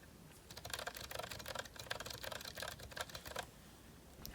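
Fast, steady typing on lubricated Zilent V2 mechanical switches in a GK61 keyboard, a close run of soft, muted keystrokes that stops briefly near the end.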